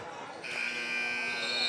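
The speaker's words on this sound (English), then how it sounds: "Last second shot, but the buzzer did go." End-of-game buzzer at a hockey game: a loud, sustained electronic tone kicks in partway through and holds steady to the end, over faint arena noise.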